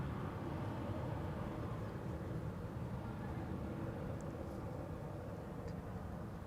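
Embraer 195 E2 airliner on approach to runway 18R at Amsterdam Schiphol, a steady broadband jet roar that holds level throughout at moderate distance.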